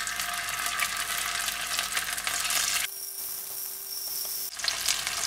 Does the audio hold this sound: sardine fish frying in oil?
yes